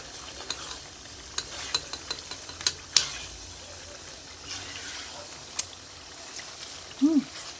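Pinakbet with ginamos stirred in a pan, with scattered scraping and tapping clicks from a ladle over a low, quiet simmer and occasional faint voice sounds.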